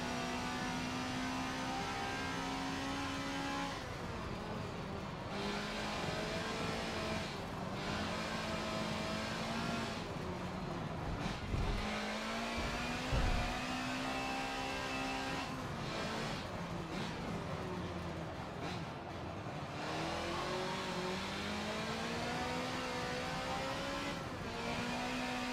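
Race car engine in Forza Motorsport 7 howls at full throttle, climbing through the revs with brief dips at gear changes, loud and continuous with a bright, whining harmonic tone and no talk.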